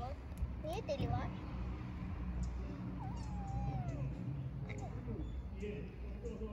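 A homeless kitten meows repeatedly in rising and falling cries, close and clear, over steady background noise with people talking nearby.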